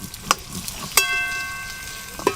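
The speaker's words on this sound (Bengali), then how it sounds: "লবণ, হলুদ গুঁড়ো, আলু আমি চাপা দিয়ে একটু লাল লাল করে ভাজবো।" Potatoes with salt and turmeric frying in a covered pan, a soft steady sizzle broken by a few sharp metallic clinks and a brief ringing tone, close and moderately loud with no talking.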